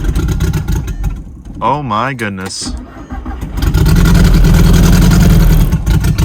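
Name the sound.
car engine starting and running on three cylinders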